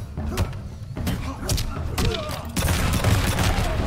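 In a Mortal Kombat 11 Ultimate tournament match, RoboCop fires his sniper rifle, giving sharp cracks and heavy thuds among busy fight effects, with commentators talking over the action.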